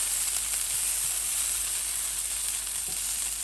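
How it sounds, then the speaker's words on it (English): Onions caramelize in a hot pan with a steady, dense sizzle and fine crackling hiss, close and continuous throughout without any talk. "So here we're caramelizing the onions."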